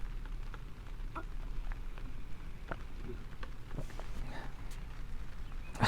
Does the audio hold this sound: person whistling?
no